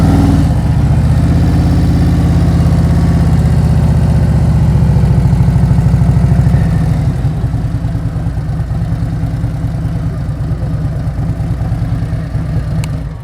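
A motorcycle engine idling and ticking over steadily during slow-speed riding practice in a parking-lot exercise, loud and close, with a slight rise in revs midway before settling back into an even low rumble, no talking.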